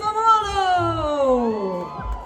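A crowd at the Tour de France Singapore Criterium stage event lets out long, sustained whoops and cheers, loud and near, with high voices sliding downward together and a low rumble beneath.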